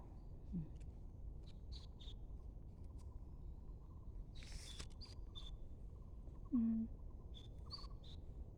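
Outdoor scene in Taiwan with scattered short bird calls and chirps, faint and somewhat distant, over a steady low background hum with a few soft knocks.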